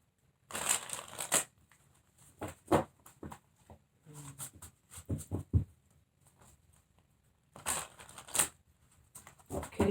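Tarot cards are shuffled by hand in quick, soft papery riffles and flutters, close and fairly quiet, coming in irregular bursts with short pauses between them and no talking.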